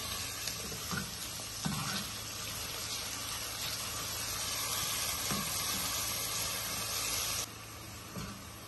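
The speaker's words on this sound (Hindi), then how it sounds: "और प्याजों को गोल्डन ब्राउन होने तक पकाएं दोस्तों" Onions frying until golden brown for Punjabi dhaba-style chana masala, a steady, moderately loud sizzle with a few soft stirring knocks, dropping slightly quieter near the end.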